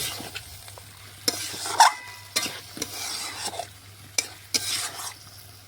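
Chicken and large potato chunks frying together in a pan, stirred with a utensil that scrapes and knocks at intervals over a steady sizzle, close and moderately loud, with no talking.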